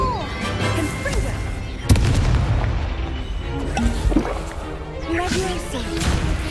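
Confringo explosion spell cast in Hogwarts Legacy, a sharp fiery blast near 2 seconds among layered combat effects, with more impacts and game music continuing around it.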